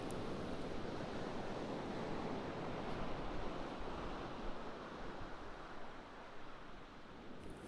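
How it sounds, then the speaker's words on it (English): Sea waves wash ashore at Caliso Bay in Waterford as a soft, continuous rushing surf with light wind, distant and fairly faint, swelling gently and fading slightly over nearly eight seconds with no voices. "back to the sound of the waves."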